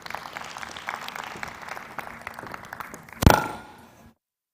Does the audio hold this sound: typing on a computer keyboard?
no